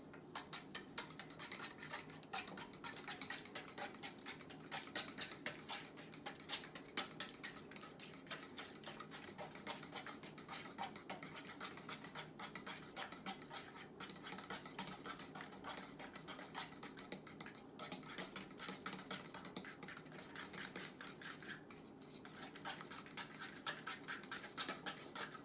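Cookie batter with stevia and vanilla extract being mixed in a bowl, a long, steady run of fast scraping and clicking strokes at a quiet, even level.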